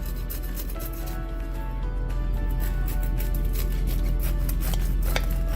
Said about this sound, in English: use a bread knife, a good sharp bread knife, and get into it by making a cut first